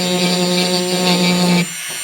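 A Dremel rotary tool cuts a channel in a Canik TP9 V2/DA pistol trigger, a loud close high-pitched whine held steadily for over a second before abruptly cutting off.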